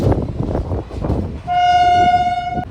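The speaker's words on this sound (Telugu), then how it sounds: "కోచ్లతో అయితే ట్రైన్ అయితే వస్తుంది" The Vasco da Gama Express (17419) rumbles close by as it arrives, then lets out a long, loud horn blast over the rolling clatter of the wheels.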